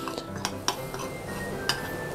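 Meat seasoned with salt and pepper for bacon wraps is mixed in a bowl, with a few sharp, scattered clinks of a utensil against the dish over a soft, close background.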